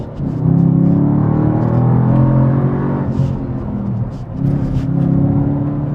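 A loud Camaro V8 engine of 432 hp rumbles and revs steadily, dipping briefly before surging again, with a deep throaty tone close by.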